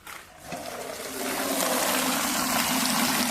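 Water gushes and pours steadily while a Tata Tigor car is being washed, starting softly and swelling into a loud, continuous near splash after about a second.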